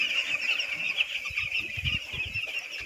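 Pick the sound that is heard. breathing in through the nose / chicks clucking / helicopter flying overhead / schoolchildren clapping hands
chicks clucking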